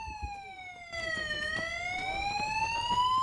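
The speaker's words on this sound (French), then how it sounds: "19h30, l'alarme se déclenche." An alarm siren sounds at a naval base, a loud wailing electronic tone that starts abruptly, dips, then rises steadily and keeps sounding.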